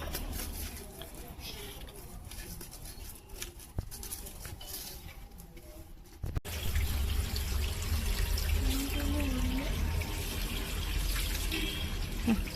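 Steady running water from a tap starts abruptly partway through while cleaning a guppy tank, a continuous rushing splash after a quieter stretch with faint background noise.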